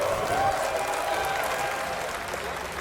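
An esports crowd at a Dreamhack StarCraft finals cheers and applauds in a steady, dense roar that fades slightly over a few seconds.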